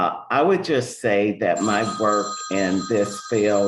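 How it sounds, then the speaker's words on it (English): A landline telephone rings in the background, a steady repeating electronic tone running beneath continuous close speech from a person talking at a hearing. "please pardon the phone, I should have taken it off. That's the landline."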